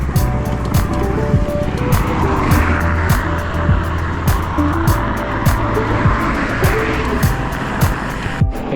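A car rolls steeply downhill on the new road up to Tagaytay, its engine and tire roar steady and loud from start to finish, with road noise throughout.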